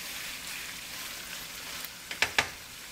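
Chicken frying for Mughlai biryani in a hot pan over medium-high flame, giving a steady soft sizzle throughout with a few sharper spits and crackles near the end.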